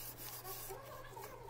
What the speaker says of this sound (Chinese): 统一咗平面之后，我哋就再换上有砂纸做一个抛光